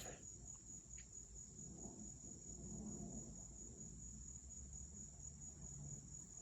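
A continuous high-pitched chirring of insects, steady and fairly quiet, fills the background with faint low rumble beneath.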